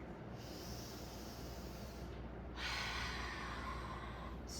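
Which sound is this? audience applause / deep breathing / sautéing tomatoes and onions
deep breathing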